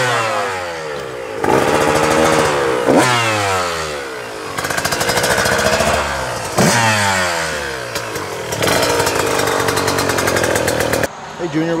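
A brand new 2024 GasGas MC125 two-stroke dirt bike revs up close and loud, its engine rising and falling in repeated blips with a buzzy, raspy tone, then a sharp cut-off near the end.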